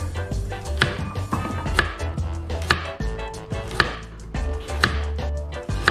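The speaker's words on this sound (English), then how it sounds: "You want to be dicing your carrots nice and thin" Knife dicing carrots thinly on a cutting board, steady rapid chopping strikes in a fast even rhythm, close and fairly loud, no voices.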